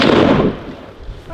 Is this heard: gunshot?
yes